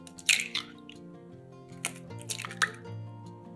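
Three eggs cracked into a bowl, giving a few brief crisp cracks and wet squishy drops spaced apart over quiet background music.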